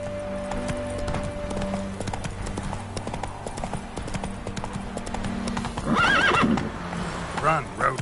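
A horse gallops in The Witcher 3 video game, with steady rapid hoofbeats throughout and a loud neigh near the end, under game music and voices.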